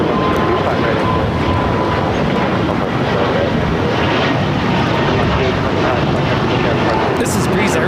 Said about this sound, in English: This is Breeze Airways, Moxie 825, taking off to Akron on the A220-300.